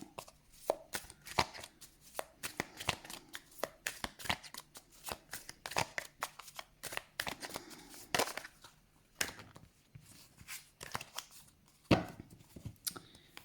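A tarot deck being cut and shuffled close up, with a long run of crisp, irregular card riffles and slaps, some sharper snaps, quiet between bursts.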